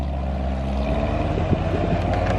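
Corvette C7 Z06 exhaust heard from a rear-mounted camera during a drive-by, a steady deep engine drone with wind rush throughout, rising slightly in the final second.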